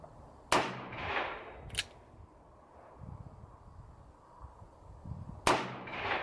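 A Smith & Wesson Model 19 revolver firing .357 Magnum rounds in single action at a range: two sharp reports about a second apart, then a third shot several seconds later, each followed by a brief decaying echo.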